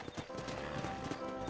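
Horse hooves clip-clop steadily in Red Dead Redemption, a continuous rhythmic run of close, quick hoofbeats over a busy game soundscape.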